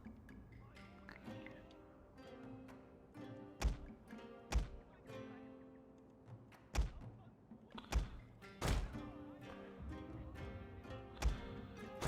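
Cannon fire in the strategy game Shogun II: Fall of the Samurai, with about eight dull, booming thuds at irregular intervals over a low battle ambience and occasional quiet talk.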